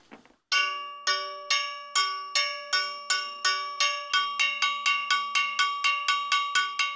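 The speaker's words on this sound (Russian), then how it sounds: "потом металла по металлу." Metal beaten against metal at a monastery before midnight, a ringing, bell-like clang struck repeatedly, slow at first and then speeding into a quicker steady rhythm, each strike leaving a resonant tone.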